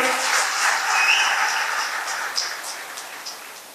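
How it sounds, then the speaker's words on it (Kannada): Audience applause at a political speech praising India's economic rise, a dense, steady wash of clapping from a crowd that holds evenly, then gradually thins and fades toward the end with no voices over it. "ಜೋರಾಗಿ ಒಂದು ಚಪ್ಪಾಳೆ ಹೊಡಿರಿ."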